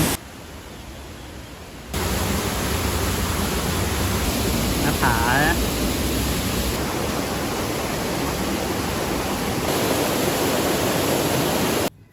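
Steady broadband roar of a waterfall in Khao Luang National Park, Thailand, loud and continuous for about ten seconds after a quieter opening, with no voices over it.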